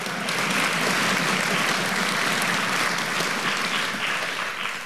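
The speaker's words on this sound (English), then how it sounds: "Let's give her another round of applause for that great work on that bass." Sustained applause from a crowd at a district honor orchestra concert, steady clapping throughout with no voices standing out.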